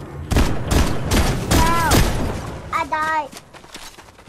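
Video game gunfire in a squad battle match, several bursts of shots hitting the player at close range, mixed with excited shouting and talk throughout.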